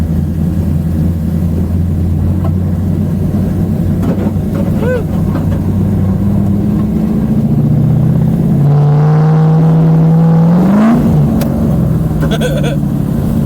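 An LS V8-swapped Mazda Miata drones loudly in snow. The engine note holds low, then climbs in a sharp rev about two-thirds through before easing back, with brief voices under it.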